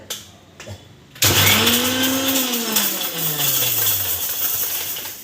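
A mixer grinder whirs up to speed while grinding dried chillies into flakes, starting after a few brief clicks and then running loud and close with a shifting motor pitch.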